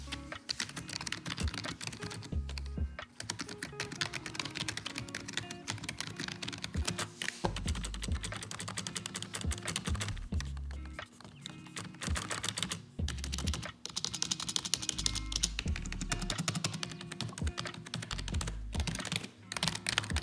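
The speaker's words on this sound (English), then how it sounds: "this is a membrane keyboard, which makes for a nice, quiet typing experience" Fast, continuous typing on a SteelSeries Apex 3 membrane gaming keyboard, the keys giving soft, muffled clacks close up, with occasional heavier thumps of a larger key.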